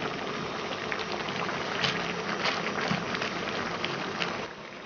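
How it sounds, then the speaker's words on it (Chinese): Corn flour noodles boiling in a pot of water, a steady close bubbling hiss with faint popping, continuous and even throughout. "水开下进去，用筷子拨一下，防止粘锅"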